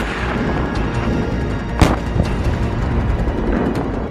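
Artillery shelling in the Ukraine war at Zaporizhzhia: one sharp, heavy boom cracks out of a constant roar of broadband noise, followed by a fainter thud, with no voices.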